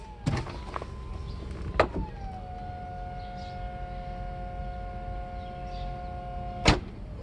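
Hydraulic cylinders of a Mercedes SL600 R129 soft top filling after a rebuild, a steady whining hum holding under a few sharp mechanical clunks, close by with no talking.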